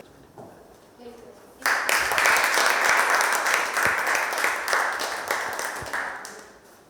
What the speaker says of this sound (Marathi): टाळ्या झाल्या पाहिजेत